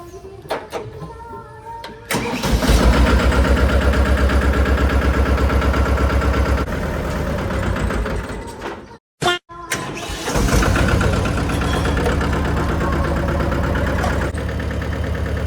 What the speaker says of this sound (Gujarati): સાફ સફાઈનું કામ ટ્રેક્ટરથી કરીએ છીએ તો ટ્રેક્ટર ઉપર આપણે બેસી ગયા છે